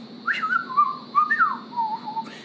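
A person whistles a warbling, bird-like tune in wavering rising and falling phrases, imitating a warbler heard while working at a supermarket checkout. The whistle is clear and close, with no other voices.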